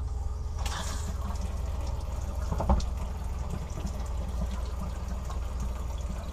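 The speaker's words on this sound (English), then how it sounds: "So, you hear the pump running." A boat's freshwater pump runs steadily while water streams from a bathroom tap on hot and cold lines, a continuous close rushing flow with one brief louder knock partway through.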